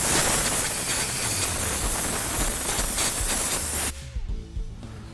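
Compressed air blows dust off a plastic part before repair, a loud steady hiss lasting about four seconds before cutting off abruptly to quieter background.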